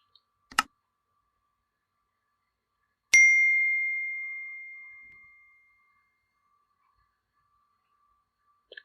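A computer mouse double-clicked in a quiet room: a quick pair of sharp clicks, then a bright chime ringing out and fading slowly, with one more faint click at the end.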